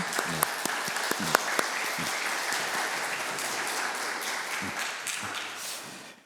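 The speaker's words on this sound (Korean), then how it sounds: "우리 함께 박수로 환영하고 축복하도록 하겠습니다" A church congregation in Dortmund applauds to welcome a newcomer during Sunday worship, a steady, moderately loud patter of many hands with a few sharper individual claps standing out, continuing for several seconds before fading.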